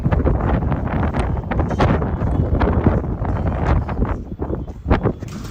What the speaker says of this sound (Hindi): ज़्यादा हवा चल रही है